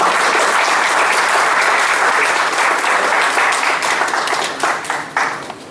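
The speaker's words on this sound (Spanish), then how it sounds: "Un aplauso para el doctor." Loud, dense applause from a large audience at a scientific conference session closing in honor of a doctor, steady and sustained before thinning slightly near the end.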